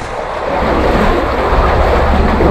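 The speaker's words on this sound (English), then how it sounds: "Waterfall." A steady, loud roar of rushing water from a waterfall, continuous and broadband throughout, with no talk over it.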